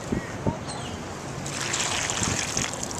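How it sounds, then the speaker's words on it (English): Water poured from a Nalgene bottle into a hydration bladder inside a backpack, a continuous splashing gurgle that grows fuller after the first moments, close by with faint handling knocks at the start. "I'm going to dump a Nalgene water bottle in it and see how it handles it"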